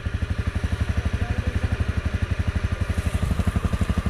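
A motorcycle engine idling on a street in Vietnam, a steady rapid low thumping pulse that holds a close, even rhythm throughout with no talking.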